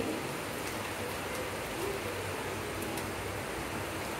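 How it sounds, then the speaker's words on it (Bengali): Heavy rain pours steadily outdoors as a dense, even hiss, a constant wash of drops with no gaps and no voices. "মুষলধারে বৃষ্টি হচ্ছে বাহিরে"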